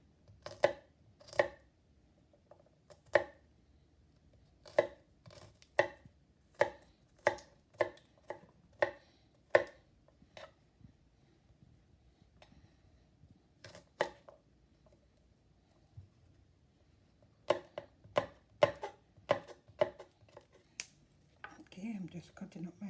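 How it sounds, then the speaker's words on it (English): A knife chops garlic and vegetables on a cutting board for a fish stir fry. Sharp, close strokes come in quick bursts separated by pauses, and a voice speaks softly between them. "I'm just cutting up my stuff"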